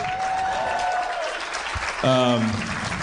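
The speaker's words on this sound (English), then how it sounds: "It's amazing that people clap for that" A live comedy show audience applauds in a dense wash of clapping that runs throughout, while someone speaks over it and a brief tonal sound rises near the end.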